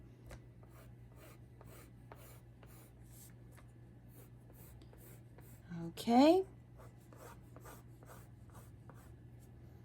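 A pencil sketches a dragon eye on paper with soft, steady scratching strokes, followed by a brief louder scrape near the end, over a low hum, and a voice speaks briefly.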